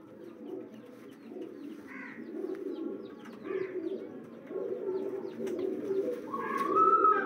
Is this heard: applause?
no